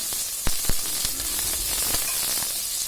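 Onions sautéing in a pan for tomato rice, a steady close sizzle and hiss with occasional sharper knocks and stirring taps scattered through.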